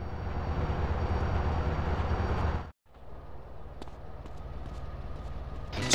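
A train rumbles in GTA San Andreas, a loud, steady rolling roar that cuts out abruptly, then returns as a quieter rattling rumble with occasional clanks and a sharp burst at the end.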